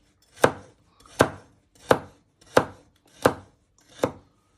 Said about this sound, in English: So you just keep chopping them and always be careful with your fingers